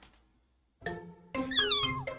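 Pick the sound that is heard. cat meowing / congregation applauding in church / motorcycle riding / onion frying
cat meowing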